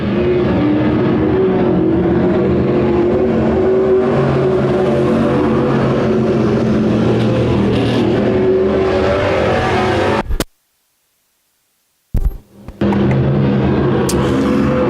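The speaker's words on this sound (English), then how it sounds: "What a race in our Bombers here tonight at Winston Speedway." Bomber-class race cars roar around the oval at Winston Speedway, a loud, dense engine drone with shifting pitch as the pack passes, cutting out abruptly for about two seconds before resuming at full volume.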